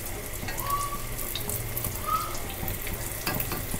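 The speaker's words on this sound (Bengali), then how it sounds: "এবার সরাসরি ভেজে দেখি কেমন হয়, তার জন্য সরাসরি ভেজে নেওয়া হচ্ছে" Snacks frying directly in hot oil over low heat, a steady, close, even hiss and crackle with faint bubbling and no talk.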